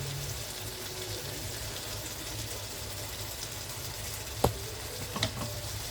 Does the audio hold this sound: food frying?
yes